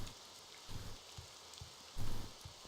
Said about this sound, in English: Why the rain?